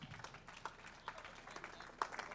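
A comedy club audience claps for the band, a faint, uneven patter of hands with a few louder individual claps standing out.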